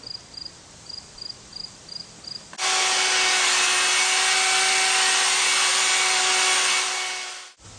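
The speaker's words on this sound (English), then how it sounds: "We're just going to burnish it up here, full speed." A floor burnishing machine runs at full speed over a freshly sealed surface, three coats of sealer, giving a loud, steady high-pitched whir with a constant tone that starts abruptly after some faint ticking and cuts off at the end.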